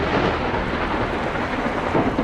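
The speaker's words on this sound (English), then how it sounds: "The storms rolled in from the west, hard, fast and loud." A hard, loud thunderstorm rolling into a city, with dense heavy rain roaring continuously and deep rumbling thunder swelling underneath, close and unbroken throughout.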